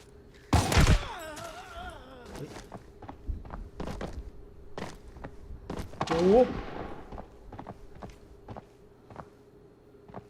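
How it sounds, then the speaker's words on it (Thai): Gunfire in the video game Arena Breakout on a dark mountain-pass map: scattered sharp shots and thuds, one loud burst early and another cluster later, mixed with footstep-like thumps. "มันมีเสียงปืน ไม่รู้ว่าเป็นคนหรือเปล่า"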